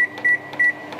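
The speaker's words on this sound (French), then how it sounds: "on va mettre 4 minutes au micro-ondes, 4 minutes à fond." Kitchen microwave oven set to full power gives three short, identical high beeps in even rhythm, close and clear.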